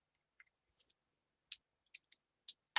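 Recollections precision scissors cut beading wire for a pearl cuff bracelet, making a series of small, sharp, close snips and clicks spaced apart in near silence.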